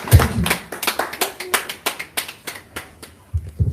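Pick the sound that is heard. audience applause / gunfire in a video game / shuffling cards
audience applause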